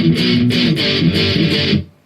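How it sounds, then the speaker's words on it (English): Distorted electric guitar power chords from the verse of a song, struck in a steady rhythmic pattern of repeated chords, loud and alone, ringing out briefly at the end. "It's just some power chords and it'll sound like this then."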